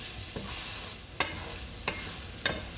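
Thawed frozen food browns in a pan over medium-high heat, a steady quiet sizzle broken by three or four sharp scrapes of stirring.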